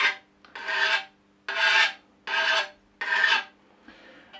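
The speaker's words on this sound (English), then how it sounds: "just start polishing the blade a little bit" A scythe blade being polished by hand gives five steady rasping strokes with short pauses between them, close and loud, and a fainter sixth stroke at the end.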